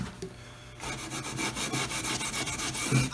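Continuous rubbing and scraping as stripped edges of a Sheraton mahogany server are wiped clean with alcohol, close and moderately loud, with a brief quieter start before the wiping picks up.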